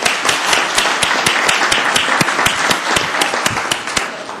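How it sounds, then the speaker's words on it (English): Steady round of applause from a city council chamber audience honoring volunteers, dense close clapping with individual sharp claps throughout, loud and unbroken. "Let's give them a round of applause."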